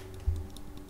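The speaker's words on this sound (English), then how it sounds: "I am clicking. Here, let me bring my mouse to my microphone." A computer mouse held right against the microphone gives a few faint, quick clicks, close but quiet, with no talking.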